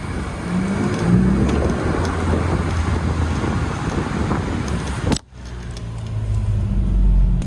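Honda Civic 10th gen rolling along with a new exhaust system fitted, producing a steady low, quiet drone and wind rush with no pops or gurgles, a brief dip near the end before the hum resumes.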